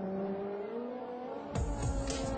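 A Ferrari F430 on a track in race mode, its engine holding a steady tone before a sudden sharper rise in revs and roar near the end, heard from inside without talking.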